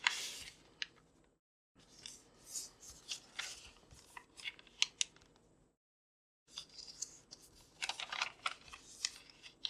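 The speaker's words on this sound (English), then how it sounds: "Fold all the corners to the center." Paper being creased and folded by hand into an origami lotus flower, with bursts of crisp rustling and crinkling separated by two short silent pauses, close and fairly quiet.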